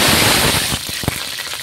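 Cauliflower pieces drop into hot mustard oil in a wok, a loud burst of hissing sizzle that settles into quieter crackling with a few sharp pops.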